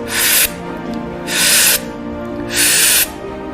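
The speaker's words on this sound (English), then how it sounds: "Almost like you're sipping the air in" Three drawn-in breaths sipped through the mouth, each a hissy airy rush lasting about half a second, evenly spaced and close up.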